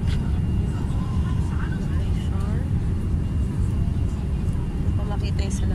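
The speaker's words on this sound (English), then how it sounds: "finally, our landing gears are down" Steady, loud airliner cabin drone during the landing approach into Bangkok with the landing gear down, a continuous low rumble filling the whole stretch with faint higher hiss above it.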